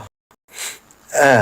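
A recorded human sneeze, a quick intake of breath followed by a breathy burst and a short voiced release, loud and close.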